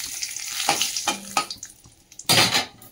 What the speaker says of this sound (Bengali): এবারে কালো জিরে ফোড়ন দিলাম